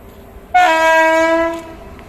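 A train sounds its horn at a railway station, one loud sustained blast lasting about a second before fading, with quiet background between.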